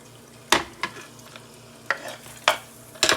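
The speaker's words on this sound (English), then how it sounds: "So I want to put red onions in my hash." Red onions frying in a big pan for hash, a soft sizzle under repeated loud scraping stir strokes against the pan, close up with no speech.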